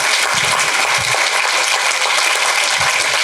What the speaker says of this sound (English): Let's give a hand to Will.